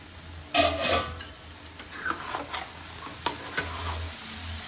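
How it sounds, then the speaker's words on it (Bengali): Mutton being stirred in a kadai for Bengali-style kosha mangsho, with a low sizzle under scattered spoon scrapes and clinks against the metal, loud at first and then settling into an even, steady stir. "এবার আবার একটু ভালো করে নেড়ে চেড়ে দিচ্ছি"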